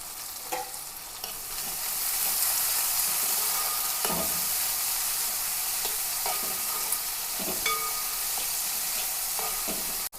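Ginger and garlic (a medium piece of ginger and four to five cloves) sizzle steadily in a hot pan, a dense continuous frying hiss with occasional sharper crackles and spoon stirs close by.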